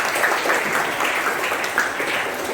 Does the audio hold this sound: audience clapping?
yes